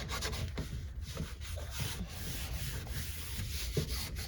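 Cloth steadily rubbing and buffing polish into the wood of an old wooden sewing machine cabinet, a close, continuous scrubbing sound with repeated strokes and no talk.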